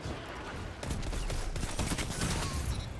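Gunfire in the video game Destiny's Trials mode, a dense loud fusillade of overlapping shots and impacts over continuous game noise, with no clear single isolated shot.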